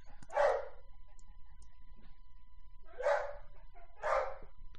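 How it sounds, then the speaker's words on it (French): A single dog barks three times indoors, sharp and close, with a pause of over two seconds after the first bark and a shorter gap between the last two, over a quiet room background. "c'est mon chien qui jappe."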